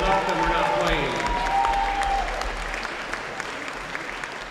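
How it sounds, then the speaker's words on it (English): A gym crowd at a high school volleyball match applauds the referees and line judges, broad clapping and murmur, with squeaky shoe or whistle-like tones early on, and the applause tapers to scattered claps by the end. "Let's give them a nice round of applause, because without them, we're not playing."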